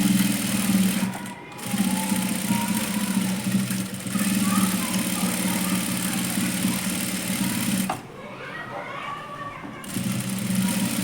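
A sewing machine stitches a beaded, lace-trimmed blouse with double seams, a close, continuous whirring hum that runs in long stretches and stops briefly twice before starting again.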